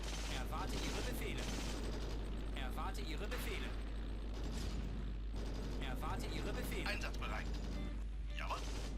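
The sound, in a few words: gunfire in a WWII video game, unit firing on a house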